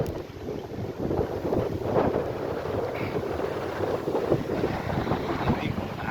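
Cold wind blows outdoors, a steady broadband rush of wind noise on the microphone, moderately loud and continuous with faint voices at times.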